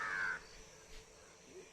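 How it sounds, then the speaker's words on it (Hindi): A crow in a Nepal forest gives one sharp, fairly close caw, followed by quiet ambience with faint stirrings. "तो ये कौवे यहाँ पे हैं"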